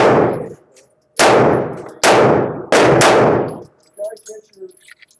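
A Ruger RXM pistol fires at a target range: one shot, then three more sharp, loud reports at a quick uneven pace, each ringing off before quieter clatter and faint metallic clinks follow.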